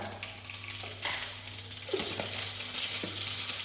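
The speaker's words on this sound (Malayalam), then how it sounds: "അതിലേക്ക് കടുക് ഇട്ട് കൊടുക്കുക." Mustard seeds hit hot coconut oil in a pan, giving a steady close sizzle with scattered faint crackles and light clatter throughout.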